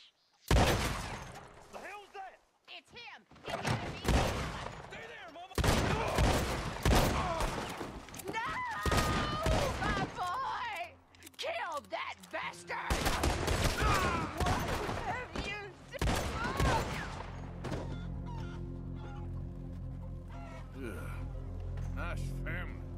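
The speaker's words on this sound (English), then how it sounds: "I cleaned the shotgun and loaded it up with slugs and took down these guys" Shotgun loaded with slugs firing in Red Dead Redemption 2, several heavy booming blasts spread across the scene amid game shouting, voices and other gunfire, with a lull and a low rumbling ambience near the end.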